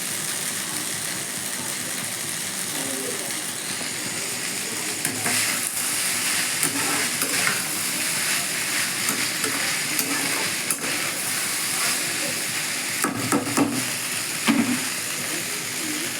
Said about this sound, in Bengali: আমি একটু জোরে আঁচে হতে দেবো পাস্তাটা।